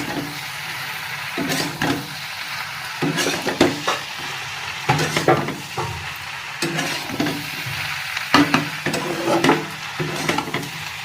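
Pakoras fry with sugar in a pan while a spatula stirs them, bursts of sizzling alternating with repeated scraping strokes against the pan, close and clear with no speech.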